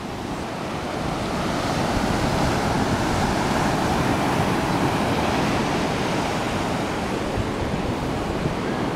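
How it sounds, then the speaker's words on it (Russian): Indian Ocean surf breaking on a sandy beach at night in Koggala, Sri Lanka: a loud, continuous roar of waves with wind buffeting the microphone, steady and unbroken, no voices. "Вот он, Индийский океан. Океанище."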